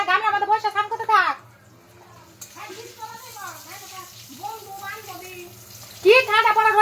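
Water from a motor pump pours steadily into a bathing tub, a continuous rushing stream partly under loud conversational voices, including a child's.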